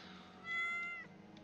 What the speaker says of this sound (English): Wouldn't let me pet the cat.